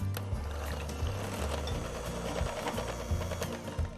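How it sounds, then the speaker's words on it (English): An electric beater whisks a lemon filling mixture in a bowl, a steady motor drone with uneven rattling and churning running throughout, loud and close. "I'm just gonna give this a nice whisk with this beater here"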